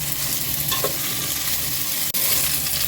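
Smoked pork cheek and bacon fry in a pan with a steady, dense sizzle and crackle throughout, stirred now and then, with a brief dropout near the end and no talking.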